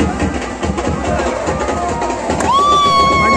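Dense, loud crowd of pilgrims cheering at the Ekvira Aai temple gathering, with Pen Koliwada youths among them; a sustained noisy roar throughout, joined midway by a sharp, steady whistle-like tone.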